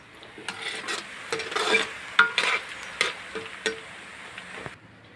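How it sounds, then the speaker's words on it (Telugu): Something fries in hot oil in a pan, with a soft sizzle under several louder scraping stirs and clinks of a utensil against the pan. "ఈ విధంగా నూనెలో బాయిల్ చేసుకోవాలి"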